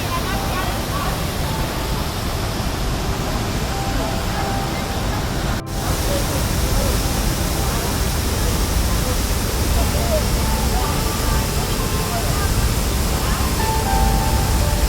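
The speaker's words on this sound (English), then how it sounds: "the sound of the falls becomes louder, and the view of water flowing down the rocky cliff is truly captivating" Tegenungan Waterfall in Bali cascades down a rocky cliff in a dense, steady roar of falling water, loud and close. The rush continues unbroken, with faint crowd babble blending into it.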